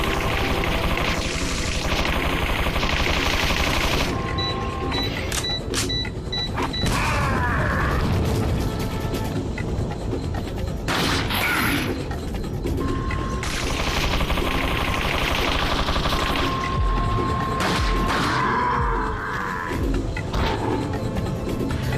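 A boss's chain gun fires in Resident Evil 4 played in VR, dense rattling bursts with mechanical clanks and creaks, loud and continuous throughout with game effects layered over it.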